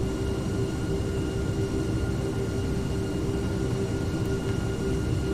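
Steady passenger jet cabin roar from the Airplane Mode passenger simulator game, a constant low broadband drone with a faint steady hum, unchanging and quiet throughout.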